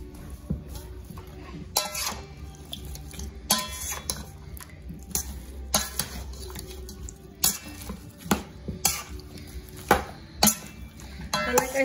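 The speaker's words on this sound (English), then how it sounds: "Mix all this up." Goat meat being mixed by hand with salt and seasoning in a bowl for Trinidad curry, with repeated close clinks and scrapes of the dish coming in irregular bursts over a low background hum.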